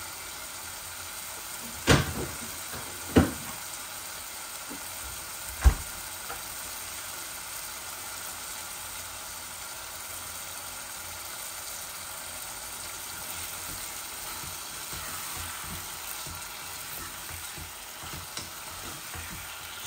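Chicken curry with tomato puree, potato and spinach sizzles quietly in a pan during stirring, a soft continuous fry broken by a few sharp knocks early on.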